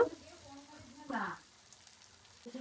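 Eggs dropped into a hot pan for egg rice give a brief soft sizzle and crackle, close and fairly quiet, with faint kitchen clatter around it.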